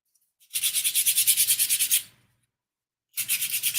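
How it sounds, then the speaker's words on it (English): Rapid rhythmic scraping strokes of a sanding stick on wood, about a dozen quick back-and-forth rubs, then silence, then another burst of sanding begins. "Before I do that, sanding stick."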